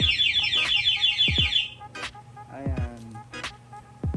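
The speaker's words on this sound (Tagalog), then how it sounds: "Tapos mag-a-alarm po, no?" Yamaha Sniper 150 motorcycle anti-theft alarm going off in a repair shop, a rapid warbling electronic siren with repeated chirps and falling tones, loud and close, with short breaks between bursts and faint voices nearby.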